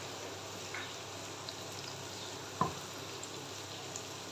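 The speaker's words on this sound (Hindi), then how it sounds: "बंद गोभी को हम थोड़ी सी तेज़ आंच के ऊपर फ्राई करेंगे" Cabbage frying in a pan over high heat for Indian vegetable rice gives a soft, steady sizzle with one brief clack of a utensil partway through.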